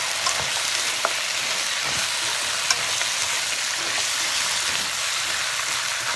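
Frozen vegetables sizzle and crackle in a pan over high heat while being stirred, a loud, constant frying hiss with occasional sharper pops and scraping clicks.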